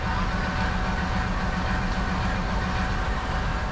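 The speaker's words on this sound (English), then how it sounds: "Up front is a modern GEU 20 series diesel locomotive, about 5 years old and imported from General Electric in the United States." A GE U20 series diesel locomotive train in Pakistan, heard as a steady, dense rumble of rail and engine noise that holds at a constant level throughout, with no voices.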